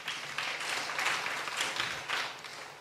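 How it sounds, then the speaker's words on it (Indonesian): A church congregation claps in praise during a sermon, a loud, steady wash of many hands with slight surges in intensity throughout. "Tepuk tangan buat Tuhan"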